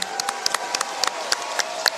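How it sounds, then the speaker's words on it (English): Sparse applause after a boxing fight decision at a fight-night event, scattered individual claps popping out irregularly over a thin, airy crowd background. "both men deserve applause right now."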